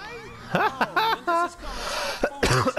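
A man with a mild cold gives a short cough amid bursts of breathy chuckling and throat sounds, close to the microphone.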